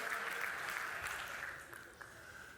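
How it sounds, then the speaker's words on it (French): A theatre audience applauds a couple's 49th wedding anniversary, steady moderate clapping from many hands that tapers off slightly toward the end, heard at a distance without speech. "Oui, applaudissez."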